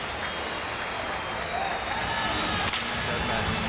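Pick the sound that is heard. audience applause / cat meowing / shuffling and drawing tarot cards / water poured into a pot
audience applause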